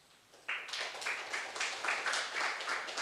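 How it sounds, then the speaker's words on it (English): Audience applause in a lecture hall rises suddenly and holds steady as a dense, crackling wash of many clapping hands, fairly close and loud, with no speech over it. "So you have to give a big applause for that."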